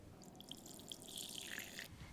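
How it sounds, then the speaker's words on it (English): Boiled water poured into a bowl, a quiet close trickling and splashing stream with a few brighter drips over a soft wash, heard alone without speech. "Boil some water, pour it in a bowl."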